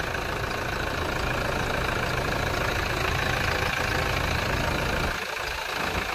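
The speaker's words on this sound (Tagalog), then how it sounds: "So engine niya ipaandar na nato." A 2007 Toyota Fortuner V 4x4 with automatic transmission idles steadily up close, its engine a continuous, even rumble that holds level throughout with no voices.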